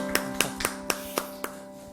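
A handful of separate claps from a church congregation at a Sunday worship service, about six sharp hits spaced roughly a quarter second apart, moderately loud, with a steady background hum and no voices.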